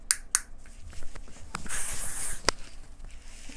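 Silicone-free flyaway hair spray hisses in a broad burst of mist lasting about a second, preceded by a few sharp clicks of the nozzle, close and fairly loud.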